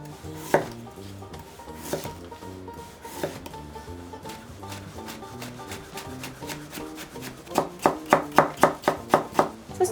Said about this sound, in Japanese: 大根も細切りにしていきます。